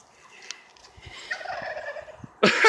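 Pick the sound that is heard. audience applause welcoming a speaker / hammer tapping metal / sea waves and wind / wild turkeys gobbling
wild turkeys gobbling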